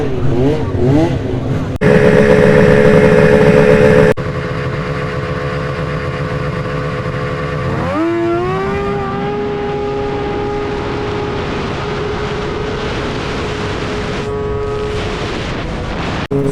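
A Thundercat and a BMW M1000 motorcycle launch down a drag strip in a stock 1000 class race, a loud continuous engine roar rising through rapid gear changes at close range, with no talking.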